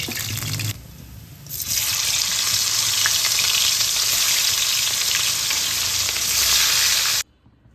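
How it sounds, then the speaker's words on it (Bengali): Steady, loud sizzling of rohu fish frying in hot oil, with a brief quieter dip near the start before the crackling hiss returns and continues until it cuts off. "এইভাবে সব মাছগুলোকে আমি ভেজে নেব"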